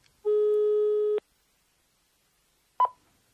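A telephone call goes unanswered: a single steady line tone sounds for about a second, then silence and one short sharp click from the handset.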